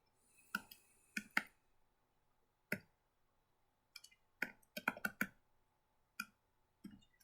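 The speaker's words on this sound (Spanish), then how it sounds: "Voy a dar doble clic en el formulario." Sharp clicks of a computer mouse on a form in a programming environment, scattered single and quick double clicks with quiet pauses between them.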